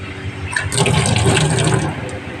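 Water poured into a pressure cooker holding meat: a brief splashing, gushing pour, close and moderately loud, starting softly and swelling, with no talking.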